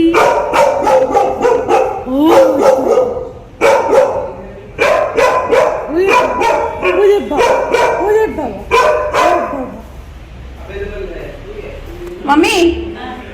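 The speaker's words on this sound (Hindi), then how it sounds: "ओ देखो डॉगी" A dog barks repeatedly in quick, loud bursts with occasional yips, close by, while people talk over and between the barks.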